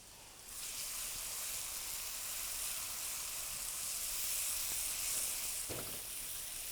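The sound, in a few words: spices roasting in a pan for Bengali egg curry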